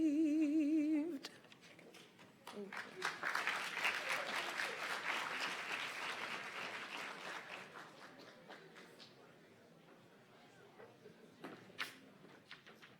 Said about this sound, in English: can we have another round of applause for our guest soloist?